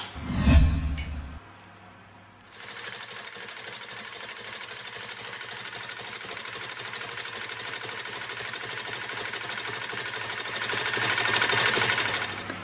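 Electric mixer whipping egg whites for professional macarons, a steady close motor whir that runs continuously and swells slightly louder toward the end, following a brief low thump and a short quiet pause.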